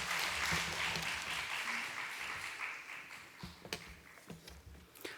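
A church congregation gives warm, sustained applause to welcome a missionary to the pulpit. The clapping starts full and fades gradually, with a few scattered claps and footsteps near the end.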